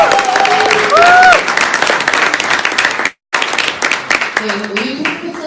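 A crowd at a political talk concert on election and investigative-office laws bursts into loud, continuous cheering and applause. Whistles and shouting voices rise over the clapping, which cuts out briefly and then resumes.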